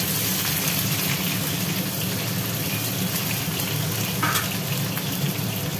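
Bay leaf and chopped onion fry in hot oil in a home kitchen, giving a steady, even sizzle throughout with a brief faint clink partway through.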